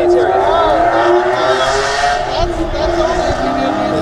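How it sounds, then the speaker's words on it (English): A Porsche sports car accelerates away from a Cars and Coffee meet, its engine note a loud, continuous rising drone that carries throughout while people talk nearby. "It sounded like a Porsche."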